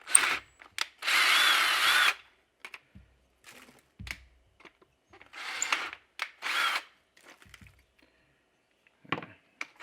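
Power drill run slowly with a 1/2-inch bit while working on a 1/4-scale custom Hellboy figure, whirring in several short bursts separated by pauses, with small clicks and handling noises in between.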